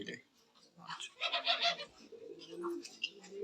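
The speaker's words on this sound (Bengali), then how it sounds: "আমরা এখানে আরেক পায়ের কবুতর দেখতে পাচ্ছি রেড চেকার কবুতর" Red checker racing pigeons at a breeder's loft give soft, quiet coos and murmurs in short bursts, fairly faint and mixed with light chirps and background movement.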